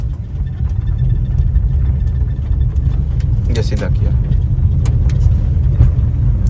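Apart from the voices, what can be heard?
car driving downhill in second gear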